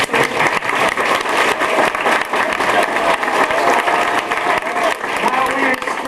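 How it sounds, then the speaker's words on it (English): A live audience claps steadily for a costumed professor at a snake oil medicine show, continuous dense applause at an even level for several seconds, with no talk over it. "Professor Stark, let's give him a round of applause."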